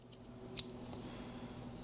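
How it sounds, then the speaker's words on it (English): Small, very sharp scissors on a Leatherman ARC multitool snip once in a quick, crisp click, with a fainter tick just before, close and alone without talk. "the scissors on this were very sharp, but rather minuscule"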